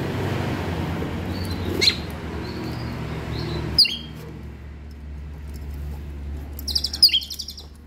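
An Asian pied starling gives a few sharp, scattered chirps and whistles, close and bright, over a low rumbling background, with a rapid trill near the end.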